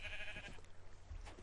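A sheep bleats in the Minecraft video game, a faint wavering bleat starting at once and a second brief one near the end, over a steady background hiss.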